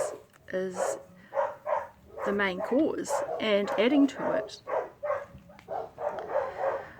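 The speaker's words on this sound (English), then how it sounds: "there's the dogs again" Dogs bark and yip in short bursts with whimpering calls, somewhat distant, beneath someone talking continuously.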